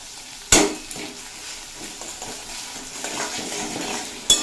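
Potatoes frying with ginger, garlic and green chilli paste in a pan sizzle softly and steadily, with a sharp clatter of a spoon against the pan at the start and another at the end, and a few faint stirring scrapes between.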